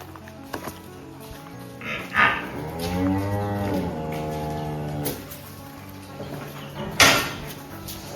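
A dairy-farm buffalo gives one long, deep moo, close by, with a few knocks and clatters around it and no talking.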